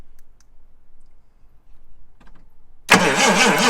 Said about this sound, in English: my dad's going to spin the engine over and you'll see it.